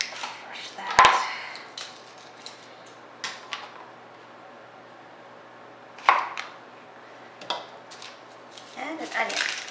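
Garlic cloves are crushed on a wooden board while prepping beef stock, giving a few sharp, close thumps and cracks, one strong hit followed by several softer knocks, with quiet pauses between them and no talk.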